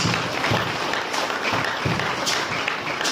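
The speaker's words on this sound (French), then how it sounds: "Acclame pour Jésus-Christ" A church congregation at a French-language service claps and cheers for Jesus Christ, producing a continuous wash of applause with scattered louder claps throughout.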